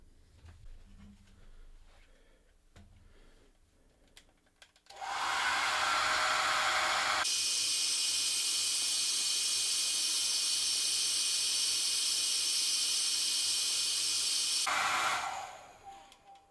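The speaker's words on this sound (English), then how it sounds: "I think my hair dryer just overheated." A hair dryer blows hot air while plastic is cleaned, a loud steady roaring hiss that starts abruptly after some quiet handling noises, runs for about ten seconds and then cuts off.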